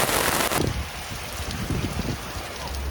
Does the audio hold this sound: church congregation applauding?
no